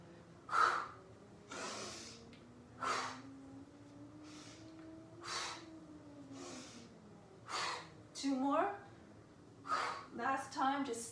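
Forceful breaths pushed out through the mouth during a yoga session, about a dozen sharp, breathy bursts at an uneven pace of roughly one per second, fairly close. Some of the later ones sound rougher and more voiced.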